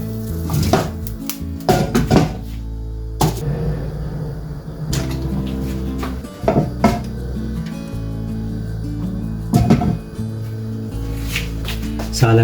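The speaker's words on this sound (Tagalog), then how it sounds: "gigisa na tayo" Pork sautéing in a pan for ginisang sayote, with pots, lids and metal utensils clattering and knocking loudly and irregularly over a low sizzle, close by and without talk.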